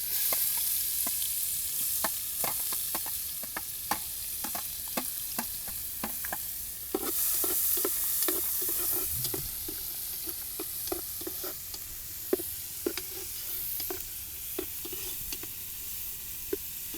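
Sliced onions hit hot oil in a pan and sizzle steadily, a continuous frying hiss broken by frequent sharp crackles and spoon taps against the pan, close up and without any voices.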